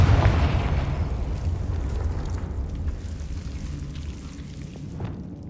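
A Confringo fire spell explodes in Hogwarts Legacy. It opens with a loud, booming burst, and a heavy rumble then fades slowly over several seconds. No voices are heard.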